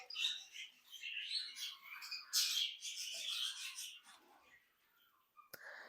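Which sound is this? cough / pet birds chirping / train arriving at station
pet birds chirping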